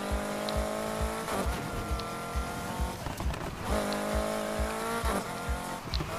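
A car drifts in the Need for Speed Heat racing game, its engine revving in rising and falling sweeps as the tires squeal through the slide, loud and close with no talk.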